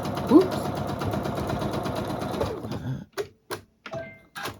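A sewing machine stitches along a quilted poinsettia table runner in rapid, steady bursts for about three seconds, then stops; a few short separate stitching spurts follow, close and moderately loud.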